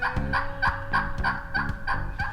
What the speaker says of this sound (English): we're back in Illinois chasing turkeys